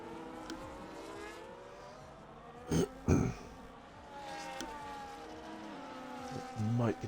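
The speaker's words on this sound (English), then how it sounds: "And Ryan has now managed to split the two Ferraris" Ferrari race cars battle wheel to wheel in an F1 video game round at Las Vegas, a steady buzzing engine drone with a couple of louder passing surges, faint commentary murmurs underneath.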